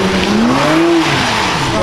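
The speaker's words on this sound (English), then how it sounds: "My boy's roasting one wheel." A car at a meet doing a burnout with one wheel spinning, a loud continuous tire squeal rising and falling in pitch over the constant roar of the revving engine.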